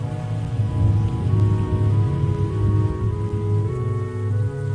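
Rain falls steadily in an animation score, a dense close patter of drops on a surface, continuous and even, layered over low sustained musical tones.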